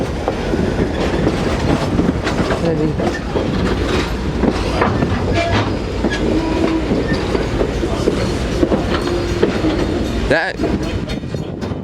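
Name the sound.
train coaches rolling past on rails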